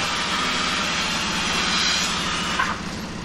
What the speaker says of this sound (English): I like cutting this stuff with my little DeWalt battery saw.